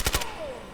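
Gunfire in the tactical video game Door Kickers 2: two quick shots in rapid succession, followed by a faint fading ring.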